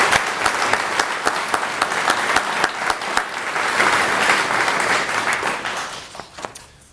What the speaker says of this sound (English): Please join me in a warm round of applause for Miss Ellen Denoyer